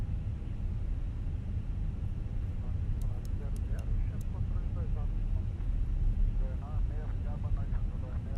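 An Azul airliner rolling for takeoff on the runway at Porto Alegre, a steady loud engine roar and rumble heard from inside the cockpit, with radio chatter and crew voices over the noise.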